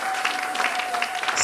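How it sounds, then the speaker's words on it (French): A church congregation claps for the Lord during a prayer and fasting service, a brief burst of dense, steady applause in a reverberant room. "Clap for the Lord."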